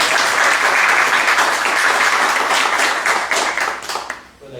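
A lecture audience gives sustained, dense applause that holds steady and then fades away near the end.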